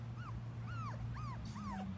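Young puppies whimper for their mother in four thin, rising-then-falling whines spaced evenly apart, fairly faint over a steady low background hum.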